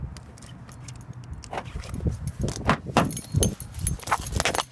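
Keys jingle and rattle while unlocking a 2012 Honda CR-V, with metallic clinks and a few thumps building over several seconds, close by and fairly clear.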